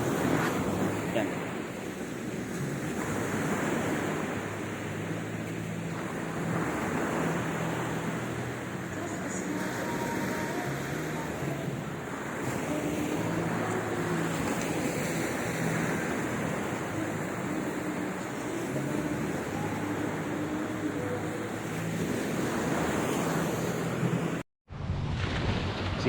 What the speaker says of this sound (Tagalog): sounds hampas ng alon.